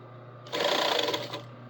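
A sewing machine runs a brief, fast burst of stitching along a long seam, a close, even whir lasting about a second over a low steady hum.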